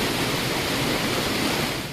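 A waterfall ambience loop cut from Minecraft, a dense, steady roar of falling water that stays even and fairly loud before easing slightly at the very end, with no voices present.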